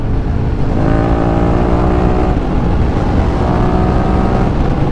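A Reed SVT 650X motorcycle cruises along a wide road, its engine droning loudly and steadily with close wind rush throughout, no voices.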